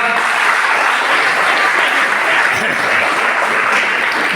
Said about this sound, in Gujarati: તમારા પોતાના માટે તાળી પાડો જોરદાર